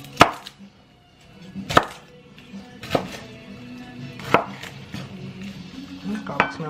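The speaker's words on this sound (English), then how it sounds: "I'm just going to really just cut them in half, just so the garlic is exposed." Knife cutting garlic cloves in half on a cutting board for a shrimp boil, five sharp separate chops spaced about a second apart, close and fairly quiet.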